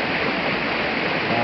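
The Meléndez river rushes at the aqueduct intake in Cali, a dense, steady roar of flowing water that stays loud and unbroken throughout.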